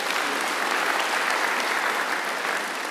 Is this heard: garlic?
no